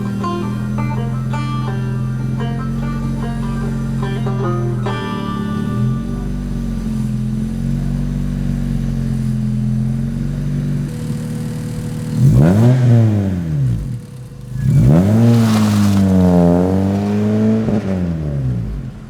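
A mini pickup fitted with a Honda D16 engine idles with a steady rumble, then revs hard several times in rising and falling sweeps during a burnout, loud and close.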